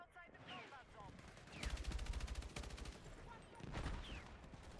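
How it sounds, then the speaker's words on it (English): Artillery impacts and automatic gunfire in the video game Battlefield: a rapid burst of machine-gun fire in the middle, heavy booms and scattered shots around it, loud and continuous, with faint talk underneath. "Like you can see that artillery hitting right there."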